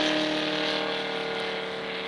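A radio-controlled Stearman model biplane engine whines steadily during an aerobatic display at a model aircraft meet, a buzzing high-pitched drone at moderate distance with a slight fading pitch.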